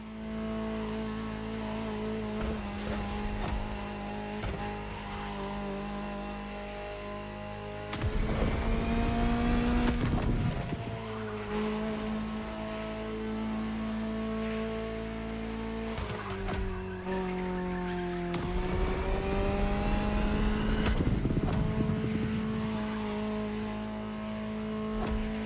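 Ferrari supercar engine in the racing game The Crew Motorfest, revving loud and close through repeated gear shifts, with rising and falling pitch, bursts of hard acceleration and tire squeal throughout.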